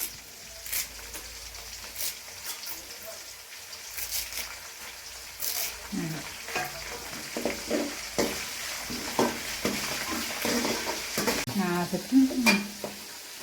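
Curry leaves fry in a hot pan with a soft, continuous sizzle. A utensil stirs them, adding irregular scrapes and light metallic taps that grow busier toward the end.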